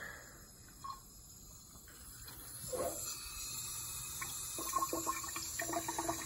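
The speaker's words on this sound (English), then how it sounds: "now the water's exiting down here." Water runs steadily out of a laminar-flow pressure demonstration setup, a soft continuous trickle and gurgle that grows slightly busier with splashy clicks toward the end, fairly faint throughout.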